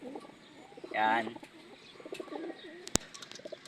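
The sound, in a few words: speaker's pet birds, pigeons cooing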